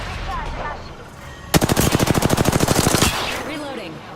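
Automatic gunfire in a video game rips out in one sustained burst of about a dozen and a half rapid, evenly spaced shots lasting around a second and a half, loud and close between quieter game ambience.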